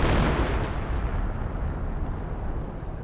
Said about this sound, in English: I do have a 20cm rocket barrage running in here